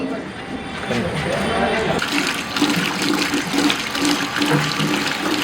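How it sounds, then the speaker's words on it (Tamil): Water poured and swished over pieces of vanjaram fish being rinsed, a steady close splashing and running-water wash that continues throughout, with a voice talking over it. "இது மாதிரி தனியாக தண்ணி ஊற்றி கரைச்சி முக்கி முக்கி தான் நம்ம வாஷ் பண்ணி எடுக்க முடியும்"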